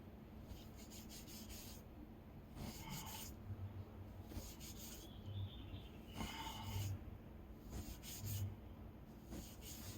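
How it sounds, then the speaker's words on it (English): Hands rub down the finish on a reclaimed redwood Telecaster-style guitar body, soft rasping strokes in short repeated bursts, faint and close in a quiet room. "It's kind of cool how that rubbing it down kind of works, right?"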